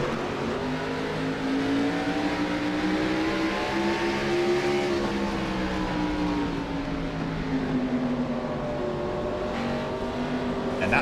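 Onboard engine of the number 75 stock car in the iRacing video game, a loud continuous roar whose pitch rises and falls with throttle and gear changes through the whole stretch, with no talk over it.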